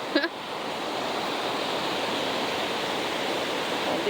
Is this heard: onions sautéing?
no